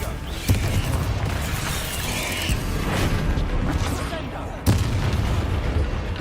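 Confringo explosive spell blasts in Hogwarts Legacy land amid a dense, roaring battle din, with sharp booming impacts near the start and again toward the end, and vocal sounds mixed into the clamor.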